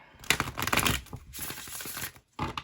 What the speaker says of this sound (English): It's a good shuffle.